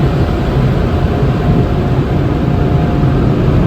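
Automatic car wash spraying water over a car, a loud, dense, continuous rushing hiss of spray that stays steady throughout without pause.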